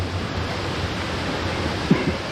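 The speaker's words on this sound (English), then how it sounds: "I was hoping we're still gonna have water coming down here, and we still have water coming down here." A waterfall swollen by heavy rain, with roughly 100 mm fallen, pours in a dense, steady broadband rush that fills the whole scene at close range with no pauses.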